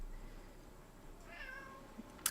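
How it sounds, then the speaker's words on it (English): A house cat lets out a faint meow, then a brief higher squeak, against a steady background hiss in a quiet room. "My cat is here."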